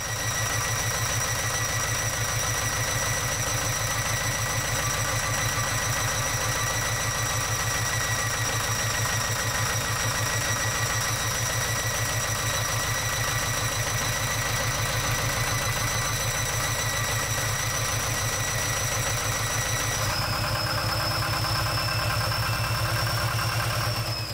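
A sailboat's diesel engine, short of revolutions, runs steadily in gear with a rhythmic mechanical clatter, its tone shifting slightly near the end. No one speaks.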